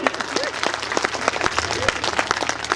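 An audience at a Hindi comic poetry gathering in Rewa breaks into steady, dense applause, a crowd of hands clapping continuously with a voice speaking over it.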